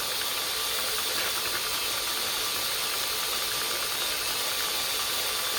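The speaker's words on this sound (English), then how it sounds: "I guess the drill's a little bit noisy." A drill runs steadily and up close with a continuous hiss and a fine mechanical ratcheting clatter, loud and unbroken throughout.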